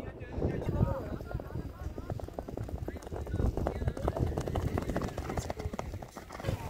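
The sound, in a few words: horses trotting before a race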